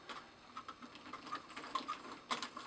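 A socket wrench ratchets a grade 8 bolt on a scale model in a garage, with quiet, rapid irregular clicks close by and no one talking.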